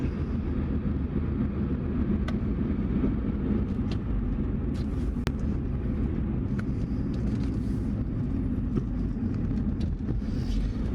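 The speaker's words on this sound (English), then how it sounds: "I do like driving this Alfa. It's just so smooth." An Alfa Romeo 159 heard from inside while driving, a steady low engine and road rumble that holds evenly throughout with no talk.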